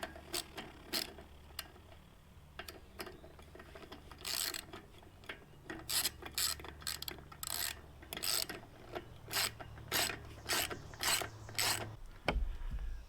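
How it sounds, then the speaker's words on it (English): A ratchet with an extension tightens recessed bolts while a chipper/shredder is assembled, producing quick bursts of sharp clicking strokes, sparse at first and then rapid and regular, close and fairly quiet, ending in a soft thump. "Because this is recessed, I'm going to need an extension on my ratchet."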